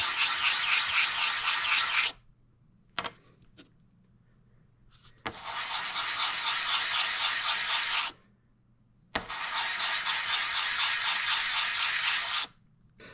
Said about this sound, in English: This is a 120 grit sandpaper. I'm just going to keep the pad flat. Kind of just go in circles with it.